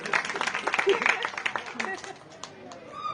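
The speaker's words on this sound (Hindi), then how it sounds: "जोरदार ताली बजाओ भाई सिखाने के लिए। जोरदार ताली तो बजा दो।" An audience at a Shrimad Bhagavat katha breaks into loud, dense applause that fills the first couple of seconds, then thins to scattered claps as the crowd quiets.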